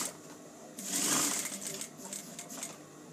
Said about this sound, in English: So while we've got it on gathering, which is basically this stitch length 5, I'm going to stitch across those 2 pieces.